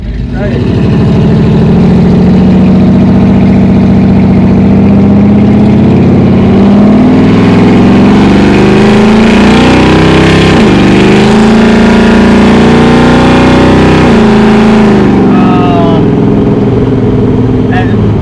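Mopar muscle car with a restrictive factory exhaust revving hard, a loud, throaty engine roar that climbs and falls through several blips and sustained high-rpm pulls, close up, with voices partly under the noise.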